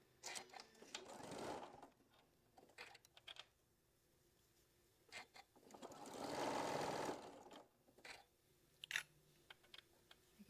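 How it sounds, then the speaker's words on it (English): A sewing machine stitching quilt pieces, running in two short bursts of quiet, rapid mechanical whirring, with light clicks and handling sounds in between. "I'm going to stitch this down."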